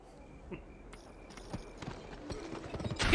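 Horse hooves clip-clop at a walking pace in the Western video game GUN. The steps are light and moderately close, with other in-game ambient sounds around them.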